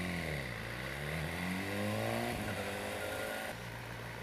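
A BMW S1000R motorcycle engine revs up and settles in a close, loud exhaust note, rising and falling in pitch with steady gear-like harmonics, no talking.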